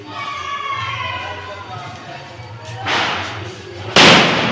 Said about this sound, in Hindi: फुलझड़ी से पटाखे फोड़ने की कोशिश हो रही है।